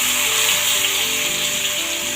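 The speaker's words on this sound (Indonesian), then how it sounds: "Langsung kita masukin bumbunya" Ground spice paste for gulai kikil sizzling loudly in a hot pan with wilted aromatics, a close, steady, bright frying hiss that runs without pause under a faint musical tone.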